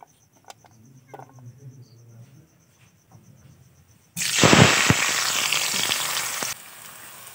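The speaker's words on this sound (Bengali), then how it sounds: "এখানে বেরেস্তা ভাজা চলছে" Sliced onions hit hot oil for chicken biryani birista, bursting into a loud, steady crackling sizzle that holds for about two seconds before cutting off, after a quieter stretch of kitchen noise.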